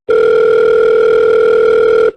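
A loud, steady telephone dial tone holds for about two seconds and then cuts off abruptly, with no voices over it.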